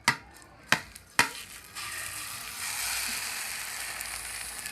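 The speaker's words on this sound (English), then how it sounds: "So we are going to slide it back into the pan" Three sharp knocks of a pan come first, then a Spanish omelette slides back into a hot pan and a steady, fairly quiet sizzle rises and holds.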